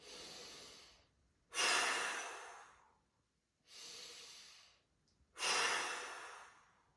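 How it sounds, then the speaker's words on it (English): Four deep breaths alternate in a slow, even rhythm, each a broad airy rush, two softer and two stronger, close and alone with short pauses between them during a guided mobility and breathing exercise. "from right there, 2 big breaths. Inhale and exhale, expand the rib cage."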